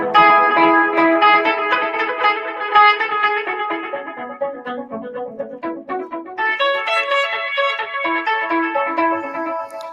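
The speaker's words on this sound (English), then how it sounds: "this is if you take all that compression off of the notes, off that Halo sound, it'll sound like this" Electric guitar played through an effects pedal's Halo sound with the compression removed, bright picked notes blooming into shimmering, delay-like trails, clear and alone.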